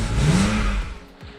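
A parked car's engine gets a brief rev as it is readied for winter storage, rising and then easing off within a second or so, loud and close with no talking.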